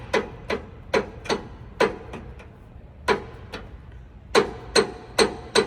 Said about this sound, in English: we need to hammer this out